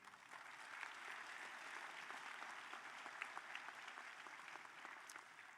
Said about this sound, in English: So you should really give all these people surrounding you a big round of applause.